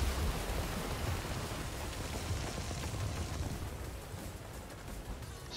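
Steady rain in a PvP video game, a dense, even wash of hiss with low rumble that stays loud and constant throughout, no voices over it.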